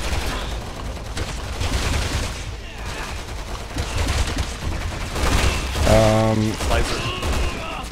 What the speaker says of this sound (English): Oh man, the recoil on this assault rifle is brutal